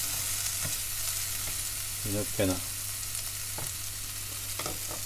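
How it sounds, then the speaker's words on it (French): Steady frying sizzle of vegetables searing in a saucepan fills the background, with a few stirring scrapes and a brief voice speaking over the hiss. "les saisir brièvement dans la casserole"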